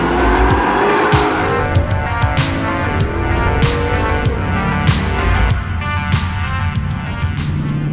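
A Ford Shelby GT500 driven hard on a race track with all driver assists switched off, its engine roaring loud and continuous with repeated tire squeals and skids as it corners, no talking.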